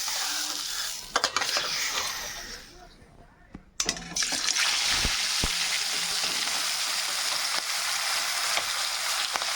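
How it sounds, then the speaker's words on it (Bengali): Tangra fish frying in smoking-hot oil, a steady loud crackling sizzle with a few sharp clatters and a brief dip before the frying surges back and holds. "তেল গরম হয়ে গেছে, ধোয়া হচ্ছে। এবার মাছ দিয়ে দেবো।"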